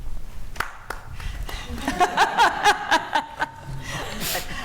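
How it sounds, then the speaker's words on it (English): At a panel discussion on jobs and skills, a small audience breaks into a short run of claps with some chuckling, moderately close, ending in a general murmur. "You were cheering."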